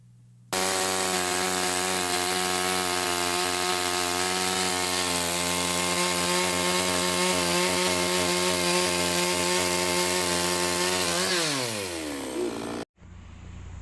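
Chainsaw cutting firewood, a loud, steady close-up engine drone holding an even pitch for about eleven seconds, then winding down sharply before cutting off, with no talk.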